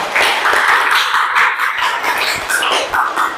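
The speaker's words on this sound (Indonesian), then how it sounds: "Tepuk tangan untuk yang bisa jawab tadi." Students in a classroom lesson applaud classmates who answered questions, with dense, steady hand clapping from a group that carries on throughout without any talk.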